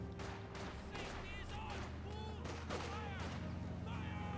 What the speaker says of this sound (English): Bit of shooting here and there.